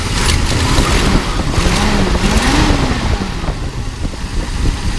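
A 1975 International Harvester engine idles loud and steady, its pitch rising and falling gently as it is revved lightly, a continuous close rumble with no talk.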